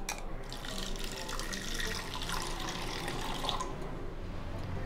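Tamarind water, dissolved from a small gooseberry-sized lump, poured steadily into a cooking pan, making a continuous splashing, tap-like liquid rush that lasts the whole stretch at moderate loudness.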